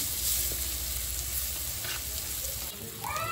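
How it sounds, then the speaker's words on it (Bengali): Food fries lightly with turmeric in a clay pot, a soft continuous sizzle close by with faint stirring scrapes, and no one talking. "এবার হালকা করে একটু ভেজে নিচ্ছি"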